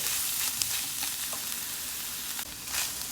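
Soya chunks sautéing in a little hot oil, giving a continuous close hiss and crackle with faint stirring scrapes and a few brief louder pops.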